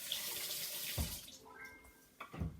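Tap water running into a sink while a cucumber is rinsed under it, a soft steady splashing stream with a couple of louder knocks and splashes near the end.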